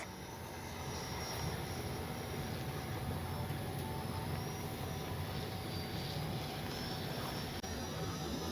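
Baltic Bees RC jet aircraft on its landing approach with retracts and flaps down, a steady loud broadband engine roar and whine filling the whole stretch with no pauses.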